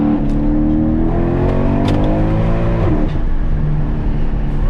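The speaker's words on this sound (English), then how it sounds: "The pops in between shifts is beautiful." Mercedes E63 AMG revving through rising gears, a loud close engine note that climbs and drops at each shift with crackling exhaust pops in between.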